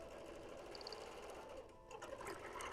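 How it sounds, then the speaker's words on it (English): Domestic sewing machine running steadily during free motion quilting on 1930s feedsack fabric, the needle tapping with each puncture; a continuous close mechanical whir with a brief dip partway through, no talk. "my needle taps. Kind of like batik does. Tap, tap, tap, tap with every puncture, but only in that one fabric"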